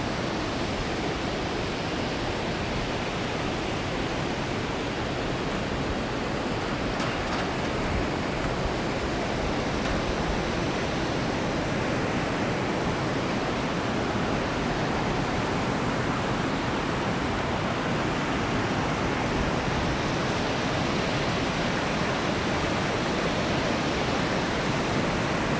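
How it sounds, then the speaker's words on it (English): Water rushes loudly and constantly in downtown Richmond, Virginia, a dense, unbroken roar like a waterfall or fast stream, steady throughout with no voices. "Probably hear the sound of the water rush down."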